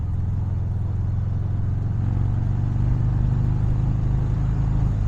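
A 2020 Harley-Davidson Fat Bob 114 motorcycle rides through twisty roads, its engine a loud, steady low drone that holds close and unbroken from start to finish with no talking.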